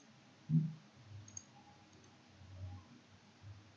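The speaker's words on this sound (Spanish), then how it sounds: "Clic derecho, ocultar columna." Single soft computer mouse click, a brief low tick near the start over a quiet room hum, followed by faint incidental clicks and desk noise with no speech.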